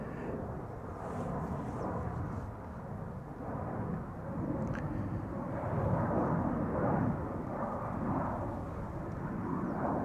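A KLM Embraer 190 jet departs Amsterdam Schiphol, its steady, broad engine roar rumbling continuously and fairly loud throughout without any voices.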